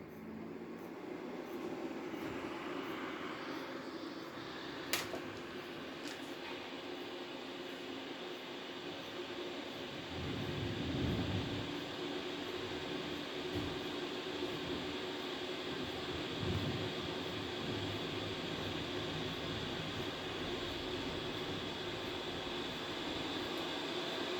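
A 12V Webasto-type portable diesel air heater blows a steady, whooshing stream of air as a constant fan hum, with a brief louder surge partway through; no talking.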